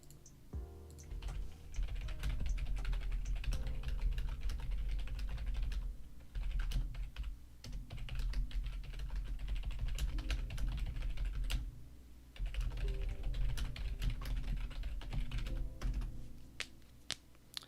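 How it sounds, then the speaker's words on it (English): A computer keyboard with silent keys is typed on steadily and close up, producing a dense run of soft clicks and taps over a low background hum, with brief pauses. "Silent keys now, Devin."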